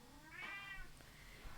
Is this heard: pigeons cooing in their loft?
no